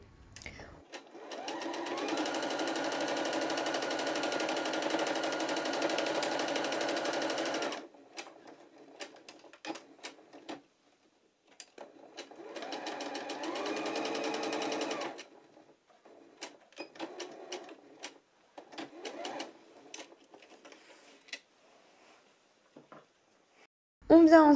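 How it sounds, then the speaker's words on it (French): Sewing machine running a straight stitch about 1 cm from the edge of a flap for trousers, with two long steady bursts of stitching separated by pauses, then quieter handling noises and brief movement between runs. "on vient piquer au point droit à 1 cm du bord en commençant par un petit côté"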